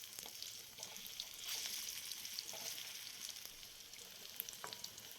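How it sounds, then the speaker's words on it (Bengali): Beetroot and carrot fritters fry in oil in a pan with a faint, even sizzle and light crackle that hold steady throughout. "তো একে একে সব বড়াগুলো আমি ভেজে নিচ্ছি"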